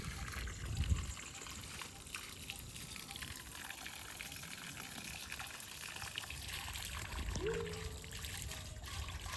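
Fresh bore pump water trickling and splashing while coriander and mint plants are watered on a farm, a soft continuous dribble close by, fairly faint, with a brief louder splash near the start.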